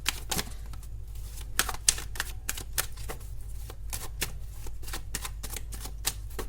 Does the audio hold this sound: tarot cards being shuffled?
yes